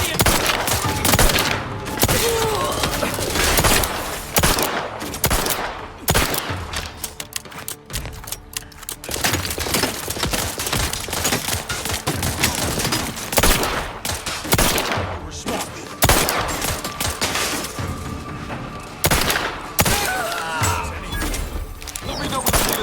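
Rapid bursts of automatic gunfire and single shots ring out again and again in The Outer Worlds 2 video game, loud and close, with short lulls between volleys and game voices speaking at times.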